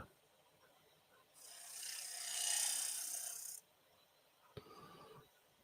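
A woodturning gouge takes a skimming pass under a bead on a three-corner bowl, producing a steady, close hiss and rasp of cutting wood that swells and then stops abruptly after about two seconds, followed by a brief knock.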